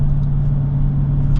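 A 2023 Dodge Challenger R/T with a 5.7 Hemi V8 idles in a loud, close, low rumble with a steady hum that never changes.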